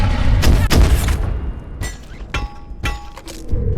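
Turrets firing in the video game Abiotic Factor, several loud sharp bursts of shots in quick succession over a low rumble, with no talking.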